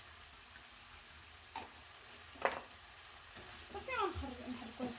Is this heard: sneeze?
no